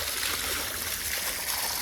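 Fresh water runs steadily from a motor pump outlet on a village farm in Botad, a continuous close rush and trickle with no talk.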